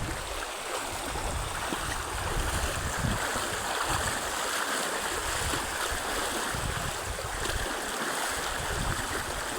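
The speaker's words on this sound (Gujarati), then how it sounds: "તો બહુ પાણી જાય છે." Floodwater rushes steadily past a washed-out road below a dam, a dense continuous roar of churning flow with no voices, loud and close throughout.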